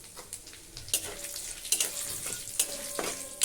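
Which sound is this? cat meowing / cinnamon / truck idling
cinnamon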